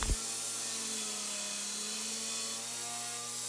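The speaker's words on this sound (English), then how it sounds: "Now I'm grinding my bevels in." A grinder whines steadily while bevels are ground into an everyday-carry knife, a continuous close, even high-pitched drone with no pauses.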